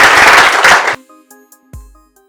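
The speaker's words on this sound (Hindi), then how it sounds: "तालियां बजा दो यार फिर" An audience claps for about a second at a talk held at a marine academy, a dense burst that cuts off abruptly into near silence with a few faint scattered tones.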